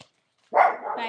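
Two dogs in a home, one noticeably older and quieter, give a burst of barking and yipping after a pause, close by and sustained, with a voice briefly heard at the start.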